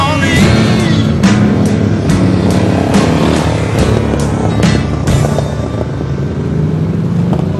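Harley motorcycles ride on roads a few miles from the Los Angeles freeways, a steady loud engine rumble with passing motor drone throughout and no talk.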